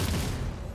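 Sustained burst of gunfire in the Warhammer 40K: Rogue Trader video game, a dense, loud, continuous volley that fades slightly toward the end.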